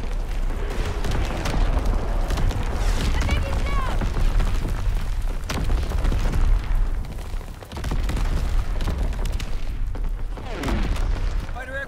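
An artillery barrage in the Call of Duty: WWII video game, heavy booms and rumbling explosions rolling continuously and loud, with game voices and radio chatter mixed in.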